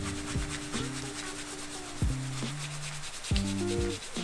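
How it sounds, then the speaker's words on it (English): Dried Mediterranean oregano is rubbed and ground between two palms, a close, dry rustling scrape with a few sharper crackles as the leaves crumble. "Take it in one hand, then you rub it together with the other hand to sort of grind it up."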